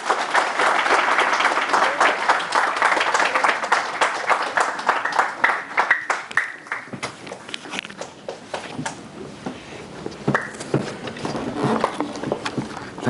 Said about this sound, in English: Let's give a nice, loud round of applause to Rav Hanoch Teller